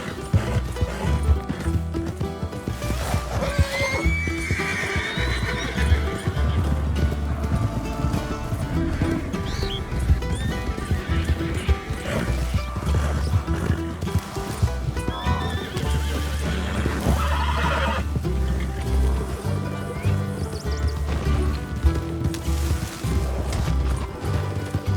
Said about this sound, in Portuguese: encontrei um grupo de cavalos selvagens